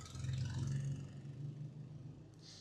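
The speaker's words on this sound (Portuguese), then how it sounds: "Tá passando uma moto." A motorcycle passes on a busy city street, a low engine rumble swelling briefly then receding into quieter traffic hum, heard at moderate distance without talk.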